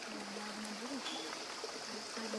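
Stream water flowing steadily through a conservation area, a soft continuous wash of trickling and rushing at even level with no talk, the outdoor quiet only lightly broken.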